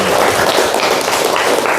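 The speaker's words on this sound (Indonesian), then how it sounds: "tepuk tangan untuk Tanisa." Classmates in a classroom burst into brief, dense clapping for a student, a short loud patter of many hands close by with no voices over it.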